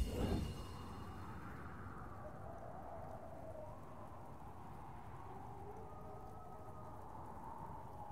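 Rain falls steadily as a soft, continuous hiss in Hogwarts Legacy, quiet and even throughout after a brief louder rustle at the start, with faint tonal sounds drifting underneath.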